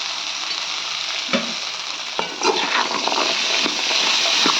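Chickpeas and onion stir-fried in a pan with turmeric, a steady close sizzle broken by scraping spoon strokes and clinks, loud and alone without voices.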